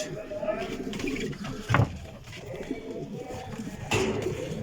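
Adana pigeons coo softly in a coop, low throaty calls rising a couple of times against steady background noise and faint rustling.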